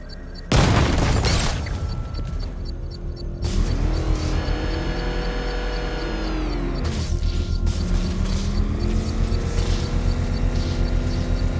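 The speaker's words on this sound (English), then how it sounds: "I can use the power winch to trigger a controlled explosion." A controlled bomb explosion in Batman: Arkham Knight, triggered with a power winch, booms suddenly and loudly, followed by a sustained rumbling roar and mechanical whine with rising and falling tones.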